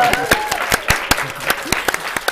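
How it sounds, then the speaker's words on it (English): Sharp, loud claps from a small audience at a university talk-show event ring out in quick bursts, uneven and close, with a few individual hands standing out. "Applause!"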